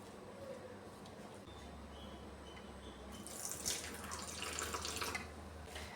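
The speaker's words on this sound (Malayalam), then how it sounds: "വെള്ളം കുറച്ചായിട്ട് ഒഴിച്ച് ഇതൊന്ന് കലക്കിയെടുക്കാമേ." Water is poured a little at a time into wheat flour batter for wheat appam and stirred in. The pouring and mixing are quiet and close, with a faint trickle that turns into a louder, splashy stretch near the end.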